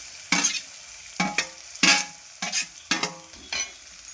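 Ginger frying in a pan sizzles and crackles in five or six bursts, each one a loud hiss that fades, suggesting stirring or tossing. The bursts come close and alone, with no talk.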